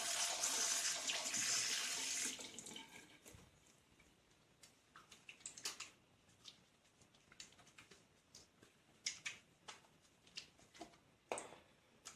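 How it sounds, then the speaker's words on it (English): Running tap water gushes loudly for a couple of seconds during hand washing, then cuts to quieter intermittent splashes, drips and small clicks as hands move under the faucet. "We wet our hands with clean running water and then apply soap."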